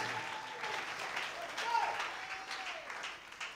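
Church congregation applauding in a steady, fairly full wash of clapping during a sermon, with a speaking voice over it.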